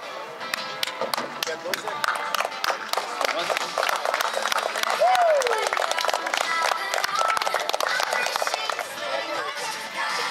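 Audience applause at a ranch roping event over Easter weekend, a dense, steady wash of clapping from a crowd lasting throughout, with voices talking over it.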